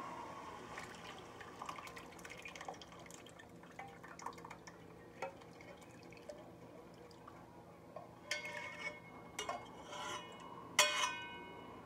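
Sauce poured over chicken alfredo in a pan, quiet wet dripping and rubbing sounds close by, with a few brighter splashy clatters near the end.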